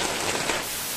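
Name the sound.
rain falling in a forest in Bhutan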